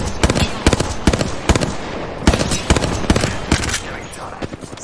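Rapid bursts of video game gunfire crackle through an Arena mode match, loud and close, with sharp repeated shots clustered in quick volleys over a busy background.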